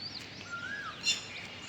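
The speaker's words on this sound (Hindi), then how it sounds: "आपको कोयल की आवाज़ सुनाई दे रही होगी।" An Asian koel calls in the early morning near the outer approach of Bina station, clear rising whistled notes alongside a few other chirps, moderately close against quiet background.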